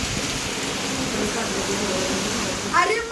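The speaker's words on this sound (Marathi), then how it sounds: "भयानक पाऊस यायला लागलाय, भयानक." Heavy rain pours down outside a home as a steady, loud broadband hiss, with a brief voice rising near the end.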